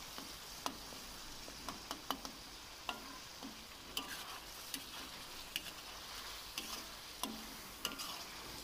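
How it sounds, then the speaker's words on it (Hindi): Softened tomatoes are mashed with a spoon in a karahi of chicken, with quiet, irregular spoon taps and clicks over a faint, steady sizzle. "अब यहाँ पर टमाटर नरम हो चुके हैं तो इनको आपने चम्मच की मदद से मैश कर लेना है इस तरह से।"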